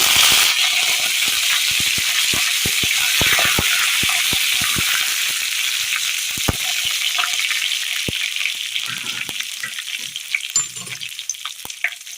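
Dried red chillies and curry leaves sizzle in hot oil for a Kerala curry, a loud, steady crackling fry with sharp spitting pops and stirring clatter that gradually thins toward the end, with no talking.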